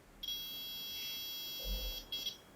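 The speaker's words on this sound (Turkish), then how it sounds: "Mesafeden gelen değer ondan küçük olduğunda buzzer'dan sesli bir uyarı çıkıyor." A high-pitched electronic buzzer on an Arduino distance-sensor circuit sounds a long continuous tone, stops, then gives a short second beep, fairly faint against a quiet background.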